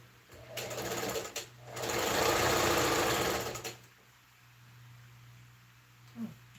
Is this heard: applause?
no